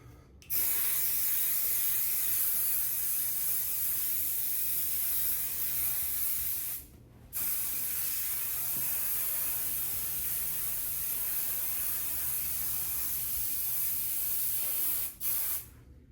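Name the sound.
hairspray being sprayed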